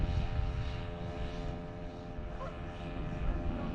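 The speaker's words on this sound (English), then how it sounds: "There's a little boat going down the river with a very noisy outboard on it." A small boat with a very noisy outboard motor heads down the river near Trent Lock, its steady, loud, buzzing drone continuous throughout.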